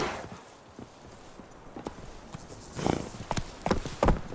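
Horse hooves clip-clop in the video game The Witcher 3: Wild Hunt, irregular steps growing louder toward the end, over a faint background.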